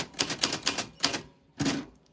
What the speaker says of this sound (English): That is how your name sounds on a vintage typewriter from the 40s.